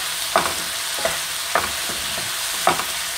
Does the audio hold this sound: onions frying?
yes